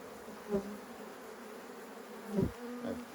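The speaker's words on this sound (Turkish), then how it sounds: "içine doğru arıları bırakalım" Honey bees buzz faintly around a hive during autumn beehive care, with a few brief louder drones passing close over a soft background hum.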